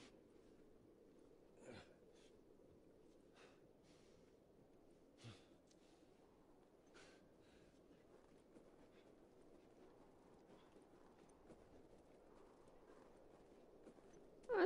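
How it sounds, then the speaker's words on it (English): Horse hooves clip-clopping in The Last of Us video game, faint, sparse hoof knocks spaced irregularly over a steady low background rumble. "I was about to ask if the horse was still here"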